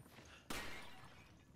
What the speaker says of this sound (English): She's just having her own pot smashing spree.